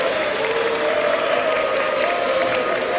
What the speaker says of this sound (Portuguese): Depois dessas vaias do Congresso